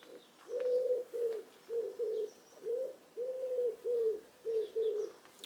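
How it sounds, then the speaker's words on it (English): Pigeons coo in a repeated, rhythmic series of soft low calls, fairly close in a garden, with faint chirps of other birds in the background. "And you can hear the birds."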